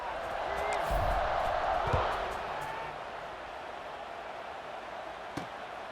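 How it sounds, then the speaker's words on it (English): Crowd noise buzzes steadily through a virtual college football stadium in College Football 26 after a touchdown, a broad continuous roar sitting under a commentator's voice. "this crowd is buzzing after that last score"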